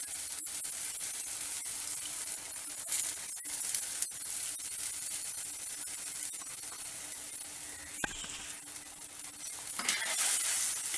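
Tamarind water sizzles and bubbles in a hot pan while a spoon stirs, scraping and clinking against the metal now and then.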